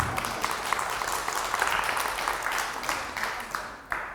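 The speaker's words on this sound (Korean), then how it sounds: "아무튼 박수는 감사하게 잘 받겠습니다" Sustained audience applause at a lecture, a dense crackle of many hands clapping steadily for several seconds before tapering slightly near the end.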